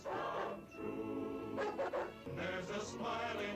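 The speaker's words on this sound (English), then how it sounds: "There's just a floating dog in London?" A dog from the Peter Pan movie barks and yips in short bursts over an orchestral music score, fairly faint and mixed under the soundtrack.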